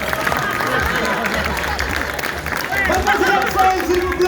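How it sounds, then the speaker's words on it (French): An audience at a stage event applauds steadily with crowd noise and murmuring mixed in, the clapping dense and continuous throughout at a moderate, even level. "On peut l'applaudir bien fort, merci."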